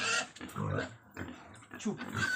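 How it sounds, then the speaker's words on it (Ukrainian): Healthy young piglets in a farm barn grunt and squeal in loud bursts, with a person talking over them. "нормальне здорове порося, воно вічно орють"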